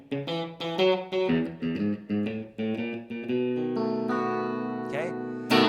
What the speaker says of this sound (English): very straightforward blues bass line style riffing going on there